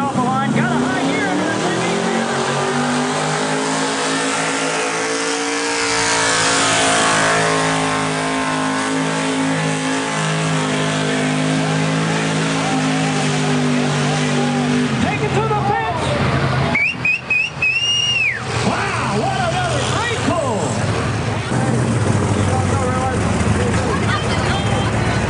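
A drag race car pulls away from the starting line, its engine roaring loud and sustained, then shifting pitch as it climbs into a higher gear, with crowd or voices faintly mixed in.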